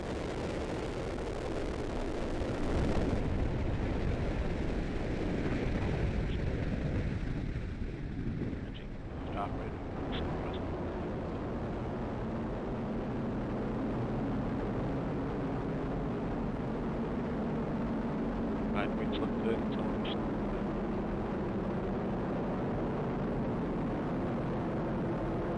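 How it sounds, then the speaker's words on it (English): A United Launch Alliance Atlas V rocket lifts off carrying prototype Project Kuiper internet satellites, producing a steady, heavy, far-off rumble that runs throughout, with a launch commentator speaking over it. "We have ignition and liftoff of the United Launch Alliance Atlas V rocket"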